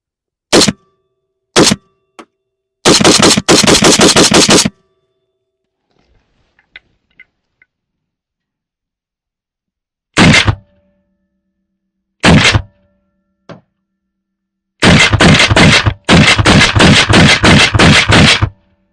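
Rifle fire from a Thunder Ranch BFT47 V2 at an outdoor range, first shots: sharp, loud reports, a few single shots, then a rapid string, a pause, a couple more single shots and a final fast volley with no talking.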